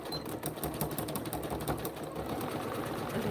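A sewing machine stitches a zippered pouch made of vinyl, its fast, even mechanical whirr and rattle running steadily close by without pause.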